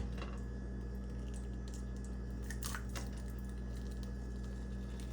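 An egg fries in oil in a pan, a steady close sizzle and crackle with faint pops throughout, no talking over it.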